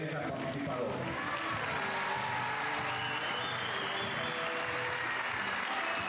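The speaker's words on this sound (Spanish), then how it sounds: "aplauso a todos los bailarines que han participado." Sustained audience applause for dancers of a Peruvian Huaylarsh dance ensemble, a steady dense wash of clapping with crowd cheering mixed in, continuous throughout, while a voice speaks over it.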